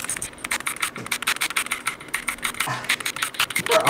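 Rapid, continuous clacking of keys on a computer keyboard during a fast-paced online game, close and crisp, with a dense, uneven rhythm of keystrokes that grows louder toward the end.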